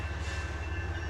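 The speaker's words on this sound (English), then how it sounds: "It was just an aggressively long train, to be honest with you." A long freight train passing at a distance, a faint steady low rumble with a thin tonal hum over it, with no talking.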